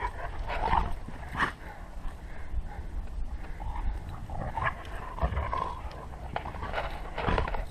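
Dogs bark, yip and whimper in short bursts over several seconds, close and fairly loud, in a rural country setting.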